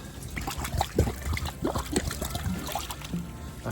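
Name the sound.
pouring spring-fed tilapia pond water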